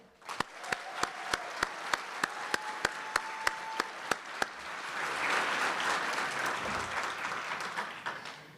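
An audience at a university Chancellor's Leadership Awards ceremony breaks into applause, starting with sharp single claps at a regular beat and swelling into a full, steady round of clapping that fades near the end.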